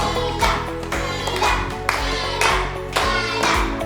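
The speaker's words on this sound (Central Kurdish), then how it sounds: "با چەپڵەیەکیان بۆ لێ بدەین" A studio audience on a Kurdish television show claps in a brief round of applause, loud and close, with a few bursts of clapping and a voice heard through it.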